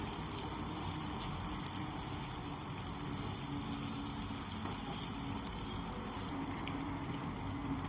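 Tomato purée, made from three tomatoes, sautés in oil in a pan for a puri bhaji, giving a steady, soft sizzle and bubbling that holds at an even level throughout, with no talking.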